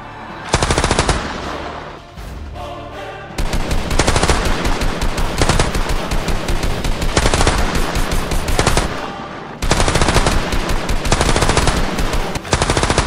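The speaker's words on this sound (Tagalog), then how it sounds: "Pinaulanan ng putok si Nakalik ng dalawang rebelde" Loud, sustained bursts of rapid automatic gunfire, several long volleys separated by brief pauses, close and dense.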